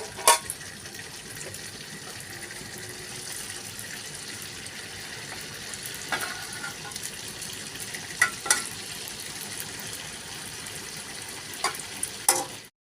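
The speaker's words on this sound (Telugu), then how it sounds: "మరుగుతున్న నూనెలో వేసి వేయించాలి" Sakinalu rice snacks frying in boiling oil, a soft continuous bubbling sizzle with a few sharp clinks of a spoon or utensil, fairly quiet and close.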